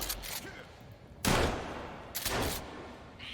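Gunfire in the video game Sons of the Forest, two long bursts of rapid, loud shots separated by a short pause, close and dense, with some talk faintly underneath.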